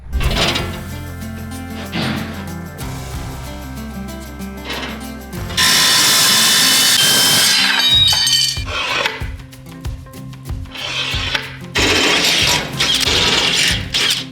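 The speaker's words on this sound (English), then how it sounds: "I drilled these out for rib nuts and they're ready to put in right now" A power drill bores holes in a metal car dash panel clamped for rib nuts, whining loudly in several long bursts separated by clinks and handling knocks, close and without talk.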